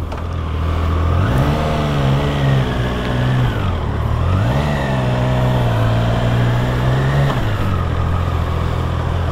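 Triumph motorcycle engine revving in three rising and falling surges, loud and close, with a steady idle hum between the revs and no talk.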